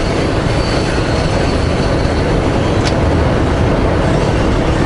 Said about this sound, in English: I hear a lot of squeaking too, so I think the brakes have been applied.